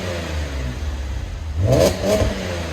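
A 2011 Chevy Camaro with a 3.6L V6, dual exhaust with X-pipe and Borla S-Type mufflers, idles with a low rumble, then blips the throttle twice in quick succession, each rev swelling loud and close before dropping back.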